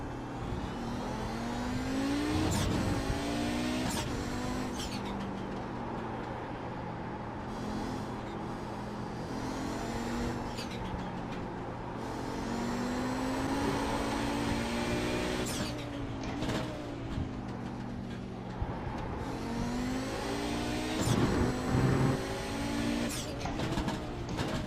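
Audi 90 race car engine in a racing video game at COTA, dropping into first gear: a continuous loud engine drone with rising and falling revs as the gears change, alone with no talk.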